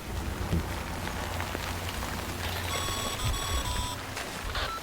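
Steady rain falls in the video game Death Stranding, a dense, continuous patter with a low rumble beneath and a short run of electronic beeps partway through.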